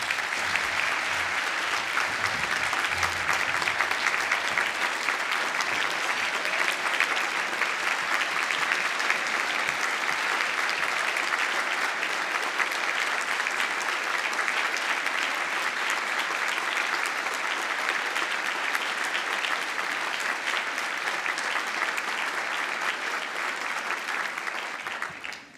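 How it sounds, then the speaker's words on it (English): Sustained applause fills the hall at a teachers' union annual congress, a dense, steady wash of many hands clapping that carries on evenly for about twenty-five seconds before cutting off. "So I ask you to applaud them."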